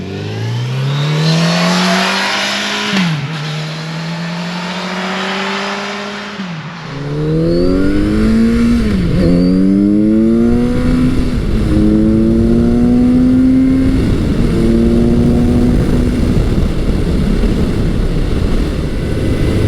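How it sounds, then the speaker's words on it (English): A Kawasaki Z900RS motorcycle being ridden, the engine climbing in pitch through several gears with clear dips at each shift, loud and close with steady wind rush underneath. "I'm currently riding Kawasaki Z900RS, and the first thing I'm noticing is how smooth this bike is"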